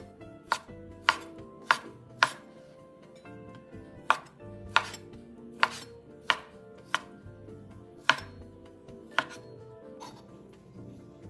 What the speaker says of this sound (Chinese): 抹干后再切成约2厘米小块状